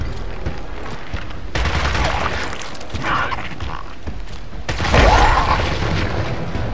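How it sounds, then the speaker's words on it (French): Gunfire from a pistol-armed squad in the tactical shooter Gears Tactics, with dense overlapping bursts and booms throughout and a louder blast near the end, set against a steady battle din. "Tu peux m'expliquer pourquoi je tire au pistolet?"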